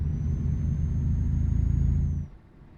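Truck engine in Euro Truck Simulator 2 droning as a loud, close low rumble with a thin high whine above, holding steady for about two seconds and then cutting off abruptly into quiet.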